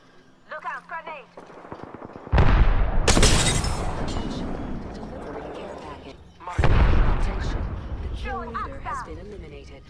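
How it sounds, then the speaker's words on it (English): A grenade explosion and gunfire in the Apex Legends video game: two loud, roaring blasts a few seconds apart, each decaying into noisy rumble, with voices talking before the first. "Look out, grenade!"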